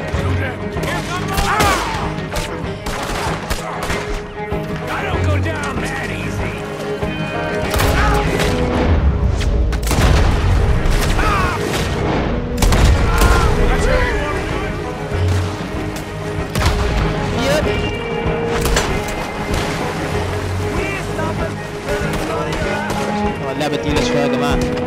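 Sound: gunfire in video game Red Dead Redemption 2

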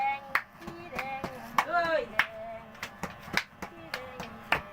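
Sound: audience clapping and cheering

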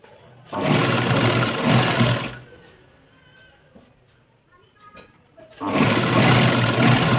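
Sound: sewing machine stitching a fabric strip border

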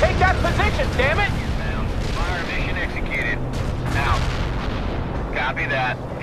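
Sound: heavy artillery barrage in the video game World in Conflict

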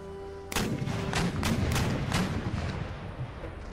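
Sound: artillery firing shells in Empire Total War video game

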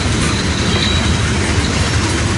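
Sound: long train passing

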